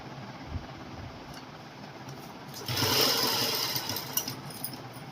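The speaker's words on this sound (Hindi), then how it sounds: "पट्टी को इस तरीके से अंदर की तरफ फोल्ड करके ऐसे सिलाई लगा देनी है।" A sewing machine stitches a folded fabric strip for a girl's co-ord set, running in a steady close whir that briefly speeds up and gets louder partway through, with no voices.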